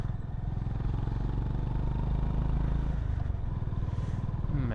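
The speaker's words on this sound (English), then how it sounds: "Man, this exhaust note is coming so nice." Honda H'ness CB350 motorcycle on a highway ride, its exhaust note a steady, loud low thump with continuous wind and road noise throughout.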